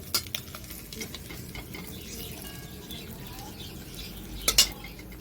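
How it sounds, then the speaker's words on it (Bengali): Koi fish frying with cabbage in a pan on a home stove, a low steady sizzle with occasional spatula stirs and a few sharp metallic clinks near the end. "এবার কিছুক্ষণ ধরে এটা ভাজা হবে উল্টে পাল্টে।"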